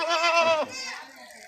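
A single goat bleats close up in a long wavering cry on a goat farm, the call dropping off into a softer trailing bleat.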